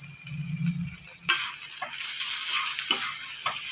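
Potatoes, tomatoes and capsicum sizzle steadily in a hot pan, with a few scraping stirs and clicks breaking through the constant hiss.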